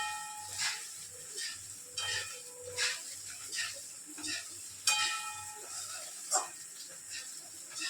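Chopped onions fry in a pan for chilli chicken, a soft sizzle broken by repeated scraping strokes of a spatula, close and moderately quiet with no speech.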